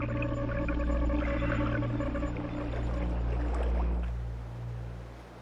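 False killer whales heard underwater give a series of whistles over low rumbling water and boat noise, fairly close, with a faint hiss of moving water throughout.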